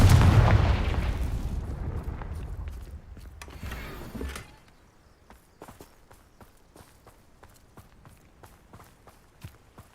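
A Confringo blasting spell exploding in the Hogwarts Legacy video game, a heavy booming blast that rumbles and fades over several seconds, followed by quieter footsteps.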